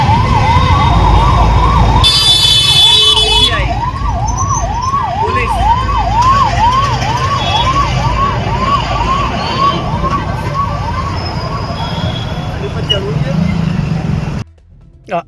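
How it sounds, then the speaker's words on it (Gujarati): An ambulance siren whoops in quick, steady rising-and-falling cycles over the dense rumble of heavy highway junction traffic and engines, loud and close, before cutting off near the end. "જબરજસ્ત ટ્રાફિકમાં એક એમ્બ્યુલન્સ ફસાઈ હતી"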